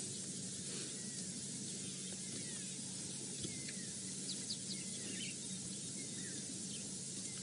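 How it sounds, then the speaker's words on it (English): Birds call in the African bush on a morning safari drive, with faint, scattered chirps in the distance over a constant hiss of static. "Maybe you can hear some of those birds."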